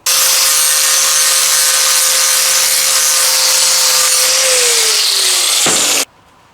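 A lawnmower blade being sharpened: a loud, steady grinding whine of metal against a spinning wheel for about six seconds, pitch dropping slightly before it cuts off abruptly.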